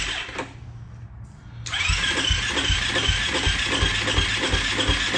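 A Honda CT70 motorcycle engine cranks over with a steady repeating chug, choke on for a cold start, running loud and close for several seconds after a brief pause.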